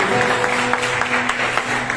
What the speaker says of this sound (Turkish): Kütahya'ya da, Kütahya'daki misafirlerimize de bir alkış istiyorum buradan.